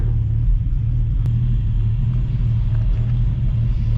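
A 1965 Ford Mustang restomod engine idles steadily after starting, a loud, close, continuous low rumble with an even throb and no clear revving.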